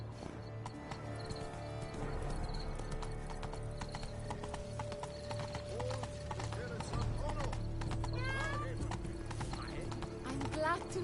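A horse gallops in The Witcher video game, with rhythmic clip-clopping hoofbeats and a neigh over the game's ambient soundtrack while characters talk.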